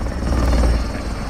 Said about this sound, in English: Is that your chopper, American flag?